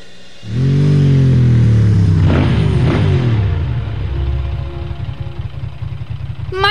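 A motorcycle engine in an animated Transformers Prime episode: a loud, close rev that rises then settles into a rough, rapidly pulsing idle, with no talking.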